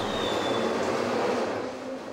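A Glasgow subway train runs loud and close, with a steady rumbling roar and a thin high whine across about two seconds. There is no talk.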